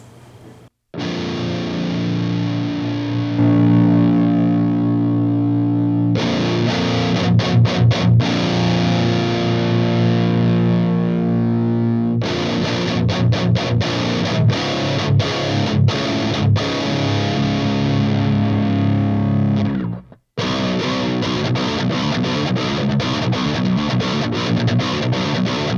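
Heavily distorted metal guitar played through a Fortin amp with the push volume engaged, loud chugging riffs with tight palm-muted stops and sustained chords, briefly cutting out near the end before resuming.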